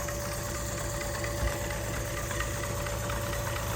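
Homemade belt-driven motor running steadily nearby, a constant whirring hum with a fixed tone and no talk.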